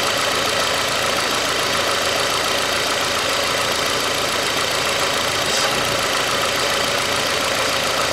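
A Hyundai Accent with a 1.5 litre engine idles roughly and knocks, a steady loud mechanical drone with uneven thumping that runs unbroken for the whole stretch, no voices.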